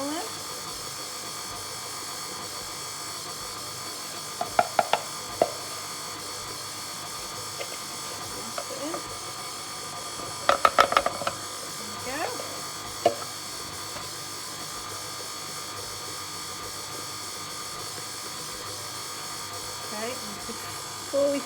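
A stand mixer beats blueberry muffin batter with a steady motor hum and rhythmic low thumping, broken by a few sharp knocks against the bowl.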